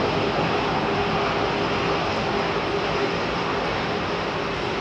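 Near Heathrow Airport, a Boeing 787 Dreamliner rolls along the runway with a loud, steady broadband engine roar that stays even and close throughout, with no voices heard.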